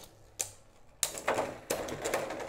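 Beyblade Burst spinning tops Draciel V and Dranzer V2 clashing in a stadium, with sharp metallic-plastic collisions at three moments and a rattling whir between the hits.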